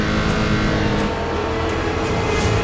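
Rallycross cars sit loaded on the grid at a Nitro Games desert event, their engines idling and revving in a loud, steady mechanical drone that swells slightly as they prepare to launch.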